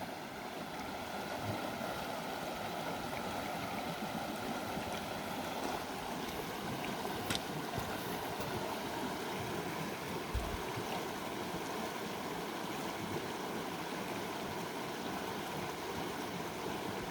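Steady broadband rush of a river flowing in the Adirondack High Peaks near Allen Mountain, continuous and fairly close, with no talk over it while hikers wade across.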